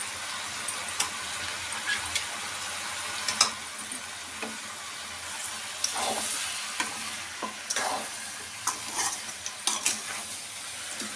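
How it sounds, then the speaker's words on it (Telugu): Goat head curry frying in hot oil in a pan, a steady close sizzle running throughout with occasional scrape and stir clinks of a utensil against the pot. "ఒక 10-15 మినిట్స్ అలా ఆయిల్లోనే వేయించుకున్నాము."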